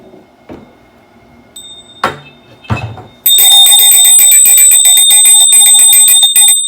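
A few scattered clicks and knocks, then a loud, bright, continuous ringing starts and holds steady until the end.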